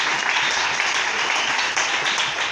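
Church congregation bursting into sustained applause, dense steady clapping filling the room at full volume for the whole stretch.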